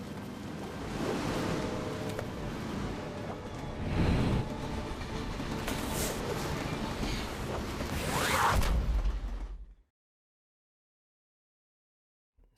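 A moving Hesperia Railways train in Splinter Cell: Pandora Tomorrow, a steady rumbling rush with clanking and rattling that swells and fades, then cuts to near silence at the end.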